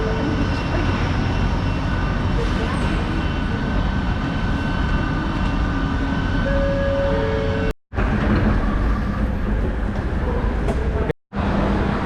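A Kelana Jaya line LRT train runs between stations in Kuala Lumpur, heard from inside as a loud, steady rumble with whining motor tones that drop out briefly twice, and no voices.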